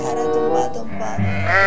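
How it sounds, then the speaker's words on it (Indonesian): A sheep bleats in a long wavering cry, close and fairly loud. "Wow, ini adalah domba."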